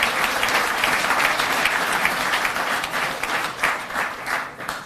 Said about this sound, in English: a round of applause for all the people that took care of us today